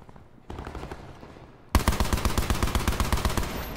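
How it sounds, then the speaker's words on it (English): A machine gun fires a long, rapid burst in the Blackout video game, loud and close, preceded by quieter background game noise. "This looks like a long range, like, machine gun or something."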